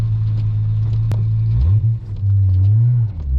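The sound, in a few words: Toyota Aristo 1JZ engine driving, shifting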